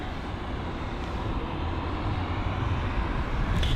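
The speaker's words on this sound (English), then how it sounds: "Reverse thrusts on that 767 are really loud." A Boeing 767 landing at London Heathrow with reverse thrust engaged, heard as a loud, steady, broadband engine roar with a heavy low rumble that swells slightly toward the end.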